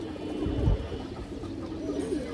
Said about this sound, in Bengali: একটা লাল খাকি মাদি কৌতর খুব সুন্দর একটা কবুতর